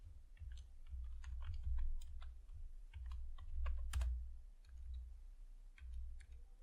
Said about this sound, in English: here I'm going to type enter book name